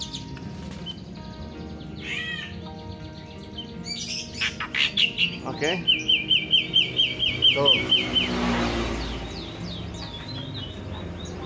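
A caged sooty-headed bulbul gives varied chirps and whistles, then a rapid series of repeated sharp notes mimicking a starling's call, with brief speech nearby.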